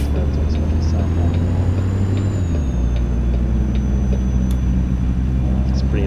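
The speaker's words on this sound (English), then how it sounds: "It's a modded engine, I know that much, because it's got its own sound pack." A modded engine sound pack on an older-style truck in American Truck Simulator, with a steady, loud, low diesel drone and a drop in pitch as the engine note shifts partway through.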